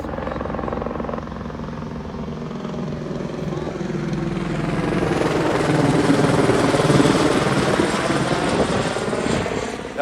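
An LAPD helicopter flies overhead in Los Angeles, its rotor thrum loud and close, swelling stronger midway before easing slightly, with faint voices underneath.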